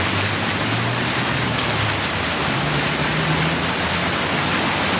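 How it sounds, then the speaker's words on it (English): Waterfall in the hills near Las Vegas, a steady broadband rush of falling water filling the scene at constant loudness, with faint low hum underneath and no talking. "This is a nice waterfall."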